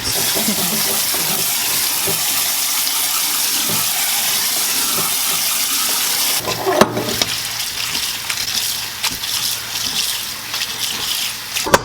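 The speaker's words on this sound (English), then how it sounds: "I'm gonna go ahead and drain the noodles here and then rinse it with cold water." Cold tap water runs steadily as cooked noodles are drained through a strainer and rinsed, a continuous close rush that grows louder and splashier partway through, with scattered clatters from the strainer.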